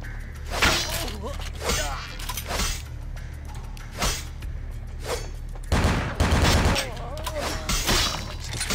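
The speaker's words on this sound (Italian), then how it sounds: "Se spari col mitra vanno giù facile." Rapid bursts of machine gun fire crackle repeatedly in a noisy scene from the game Vampire: The Masquerade – Bloodlines, loud and chaotic, with voices talking over the shooting.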